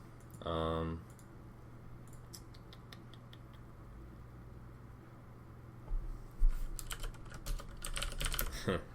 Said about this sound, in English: Yeah, sorry, I'm typing again.